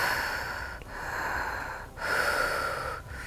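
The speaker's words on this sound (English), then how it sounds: "It was a gentle open mouth breath that starts with very deep inhales and exhales, and then progresses to faster, deeper breathing." Fast, deep open-mouth holotropic breathwork breathing: loud rushing inhales and exhales in a quick rhythm, about three breath cycles, close to the listener with no speech.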